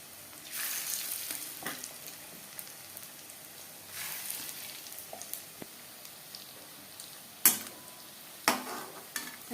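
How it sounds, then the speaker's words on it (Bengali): Fish roe fritters fry in hot refined oil over a medium flame, giving a steady close sizzle with a few sharp clatters and pops toward the end, with no talking. "ডিমের বড়া ভাজবার জন্য বেশ খানিকটা রিফাইন্ড অয়েল গরম করে নিয়েছি।"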